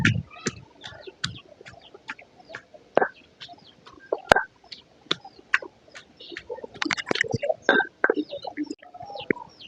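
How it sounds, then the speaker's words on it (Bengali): Raw chicken meat being pounded flat for chicken chaap, giving a run of sharp, irregular thumps and knocks close by, some clustered quickly and others spaced apart, with no talking. "এই যে মুরগির গোশতটা ভালোভাবে ছেঁচে নিয়েছি"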